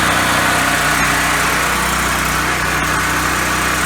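A small portable generator engine runs loudly and steadily at close range, a dense continuous mechanical drone with no pause or change in pace.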